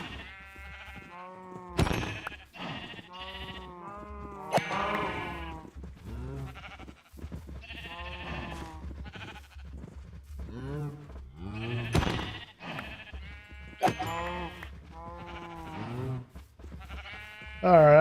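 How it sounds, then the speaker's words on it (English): Sheep in a Minecraft-style survival world bleat repeatedly in overlapping calls, several animals close by at varying loudness, with a player talking over them at times. "I think the sheep outbreed the cows."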